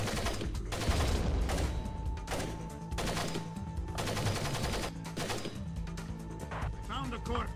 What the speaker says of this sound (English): He's shooting at random crap.